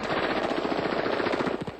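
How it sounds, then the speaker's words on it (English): Rapid automatic gunfire in a Palestinian refugee camp, a dense, loud burst of rattling shots fired in quick succession, with no pauses. "she was caught in a hail of gunfire"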